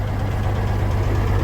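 A farm vehicle's engine is running rough and misfiring near an auger during harvest, with a loud, steady low rumble and uneven knocking throughout and no voices.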